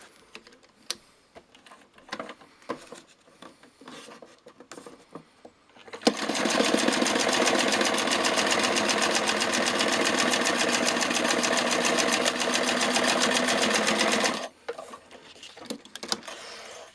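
Sewing machine hemming a half-centimetre folded edge of a NATO issue IPK tarp, a loud continuous rapid stitching run of about eight seconds, set between quieter handling clicks and rustles of fabric before and after, no talk.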